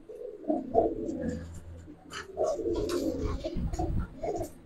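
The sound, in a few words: pigeons cooing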